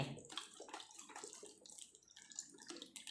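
Plain milk poured from a nearly full carton into a pot for homemade milk pudding, a soft, steady liquid splashing and gurgling that stays close and fairly quiet throughout, with no voices.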